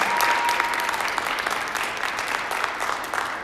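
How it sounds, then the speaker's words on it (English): An audience at a school athletics signing ceremony gives a steady, full round of applause, with many hands clapping continuously throughout. "if we could just give both Erin and Ainsley a quick round of applause"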